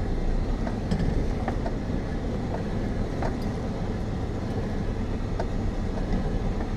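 Heavy truck hauling a nearly full trailer of grain corn while driving: a steady low rumble of engine and rolling with occasional clicks and rattles, close and continuous, no talking.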